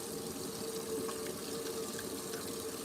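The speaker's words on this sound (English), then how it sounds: "gonna wash my hands real good" Hands are washed under a running tap with a steady, close, moderate rush of water and no talk.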